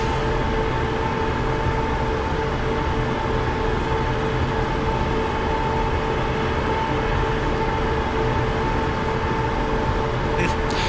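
A train running in Train Simulator on a Scottish commuter route from Edinburgh Waverley to Glasgow Queen Street, a steady, loud, droning rumble and hum lasting throughout with no break.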